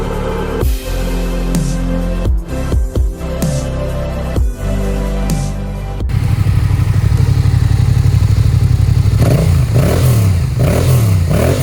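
A 2016 Yamaha Tracer 700 ABS with 15,334 miles idles close by, with a few sharp throttle blips at first, then settles into a steady, throbbing idle.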